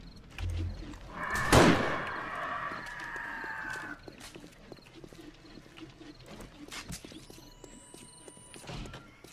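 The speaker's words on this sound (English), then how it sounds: "Come on, stupid bird, where you at?" A farmyard chicken or rooster in the survival game 7 Days to Die gives a drawn-out, crowing call for about three seconds. Scattered clicks and a short rising whistle follow against quiet background noise.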